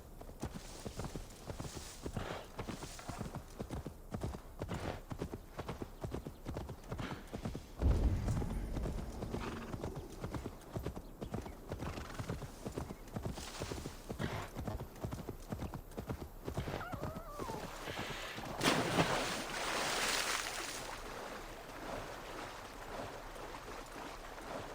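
Horse hooves clip-clopping in the Assassin's Creed Valhalla video game, a steady rapid galloping rhythm throughout with a brief whinny, bright clear hoofbeats over faint ambient background.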